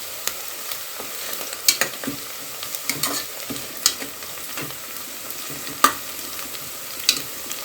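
Chopped onions sizzle steadily in hot oil in a pan for vegetable pulao, with sharp scraping clicks from a spoon stirring them now and then; no one speaks.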